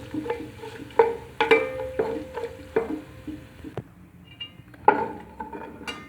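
Sweet fennel seeds lightly roasting in a pan for jaggery rice (gur wale chawal), with a spoon scraping and clinking against the pan in irregular close strokes over a faint crackle.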